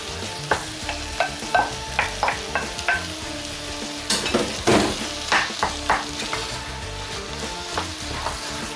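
Minced meat for Tunisian brick fries in a hot pan, its steady sizzle broken by a series of sharp scrapes and knocks as a utensil stirs it, close and fairly loud.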